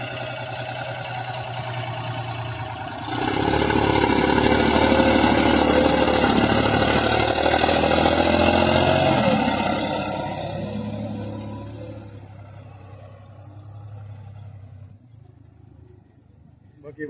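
A steady, loud Mahindra Arjun 605 tractor engine rumble pulling a harrow, swelling and then fading, a low-pitched motor idling and running under some talk.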